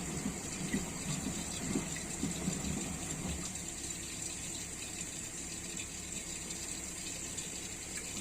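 Water steadily pours into a washing machine drum during filling, a faint continuous rushing with a few soft knocks early on and no talking.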